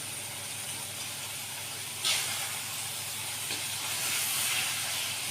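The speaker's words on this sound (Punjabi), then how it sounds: "ਆਲੂਆਂ ਨੂੰ ਵੀ ਆਪਾਂ ਇਸ ਮਸਾਲੇ ਦੇ ਨਾਲ ਭੁੰਨਾਂਗੇ" Potatoes for dum aloo roast in spice masala in a pan, giving a steady, faint sizzling hiss throughout with a small flare partway through.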